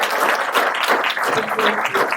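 An audience at a Fintech South banking innovation panel applauds, a dense, continuous burst of clapping that holds steady and loud throughout.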